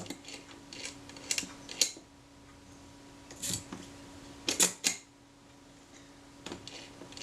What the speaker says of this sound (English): Cock the shutter, fire, wind on to frame number 2.